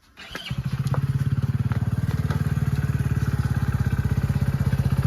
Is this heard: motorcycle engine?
yes